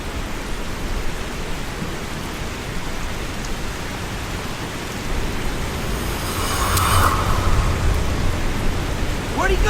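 Heavy rain pours outdoors in a thriller film scene, a dense, steady hiss that grows louder in the second half, with a brief faint tonal flicker partway through.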